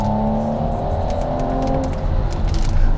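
A 2022 Audi S5 Sportback engine pulls hard under acceleration, its strong tonal drone holding loud and close before rising slightly toward the end, with no voices over it.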